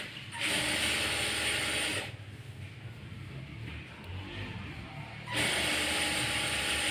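A sewing machine stitches a blouse sleeve hem folded under by a quarter inch. It makes a close mechanical rattle in two bursts, with a quieter stretch of handling noise between them.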